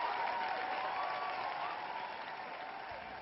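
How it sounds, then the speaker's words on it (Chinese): An audience at a Mid-Autumn Festival concert claps in a soft, distant ripple of applause that slowly fades, with faint tonal music lingering underneath. "掌声鼓励，谢谢你。"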